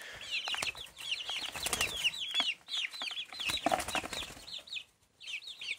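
Chickens cluck close by, with many short chirps from newly hatched chicks repeating above them and brief bursts of wing flapping.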